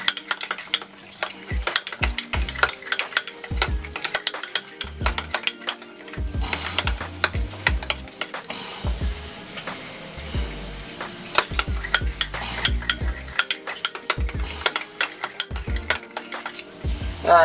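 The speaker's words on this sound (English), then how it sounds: "And we're just going to stir that up." A spoon stirs a teaspoon of pickle relish into a mixture in a bowl, with repeated scraping and clinking strokes of utensil against dish, steady and close throughout, no voice.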